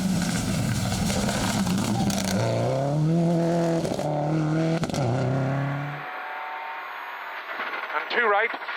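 A Subaru N14 Group N rally car drives hard through a stage of the Circuit of Kerry Rally, its engine revving loudly in rising gear pulls, then dropping away; co-driver pace notes are called over the engine throughout.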